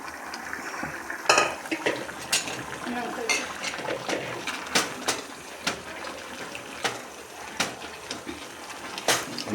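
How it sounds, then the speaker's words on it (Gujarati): Cooked toor beans stirred in a pan for an Indian toor totha dish, with repeated scraping and clinking strokes of a spoon against the metal over a soft sizzle, close and moderately loud. "અને બરાબર હવે મિક્સ કરી દઈશું."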